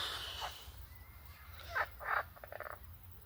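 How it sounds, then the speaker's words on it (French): A toad croaks outdoors in a few short, rough bursts, close and fairly clear over a low steady background rumble, with no talking. "Ouais, c'est un crapaud."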